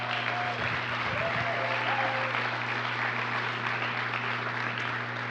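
A crowd at a business speaking event breaks into sustained applause, dense and fairly loud clapping over a steady low hum, continuing evenly for several seconds.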